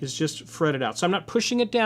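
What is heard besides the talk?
No distinct noise like a dog, phone or traffic.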